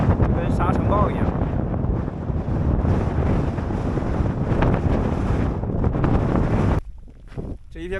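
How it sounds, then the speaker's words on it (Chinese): Strong gusty wind at a campsite on bare concrete ground along the Xinjiang–Tibet road, roaring hard against the microphone for about seven seconds before easing suddenly near the end. "狂风一吹，就跟沙尘暴一样。"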